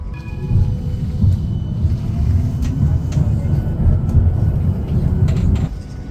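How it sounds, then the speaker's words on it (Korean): Steady low rumble of a tram rolling along in the Netherlands, heard from inside, with faint clicks and rattles over the continuous hum of the car in motion. "트램 타고 가고 있고요."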